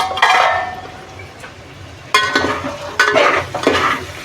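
A spoon stirs fried paneer and rice for veg pulao in a pan. Close, uneven scraping and sizzling come in several bursts, with light metal clinks.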